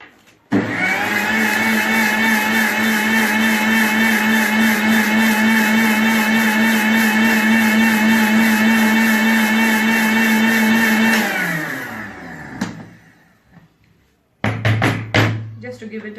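A mixer grinder whirs loudly and steadily as it grinds dry biryani masala spices with garlic and ginger powder, a constant motor drone for about eleven seconds before winding down, followed by brief clattering.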